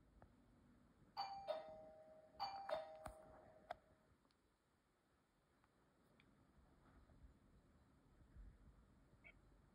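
A Mubview wireless doorbell being tested chimes twice in quick succession, each ring a bright ringing tone that fades out, followed by quiet indoor room tone.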